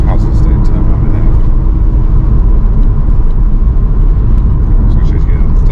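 A clean MK4 Toyota Supra's engine drones loudly and steadily as the car pulls away, a dense, close rumble with voices talking over it.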